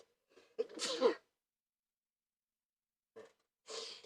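An ice wolf boss in Kingdom Hearts III lets out two sneezes, each a sharp inhaled buildup snapping into a close, explosive burst, separated by a couple of seconds of silence.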